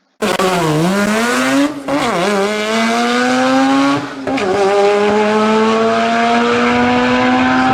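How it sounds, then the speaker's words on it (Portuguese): A high-pitched Mazda Wankel rotary engine screams through three sharp revs, each dipping briefly before climbing again, loud and close with a buzzy, smooth whine. "Sensacional o berro desse Mazda."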